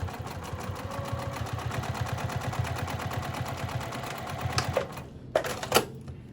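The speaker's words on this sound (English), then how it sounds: "you're just going to top stitch along the exterior fabric, that front panel" A sewing machine top stitches the exterior front panel fabric of a pouch, a rapid, even needle chatter running steadily up close before stopping near the end with a few clunks.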